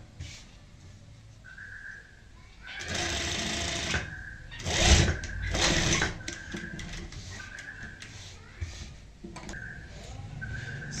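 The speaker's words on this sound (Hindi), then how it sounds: "और अब हम यहाँ पे सिलाई लगाएंगे। बिल्कुल सीधी सिलाई लगानी है" A sewing machine stitching a pintuck neck design, running in several loud mechanical bursts of rapid stitching separated by brief pauses, close up with a faint whirring tone.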